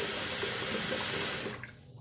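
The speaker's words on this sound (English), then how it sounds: "hot water in my sink here" Hot water runs steadily from a bathroom sink tap, a loud, close broadband rush that holds for about a second and a half before being shut off, leaving faint drips and quiet.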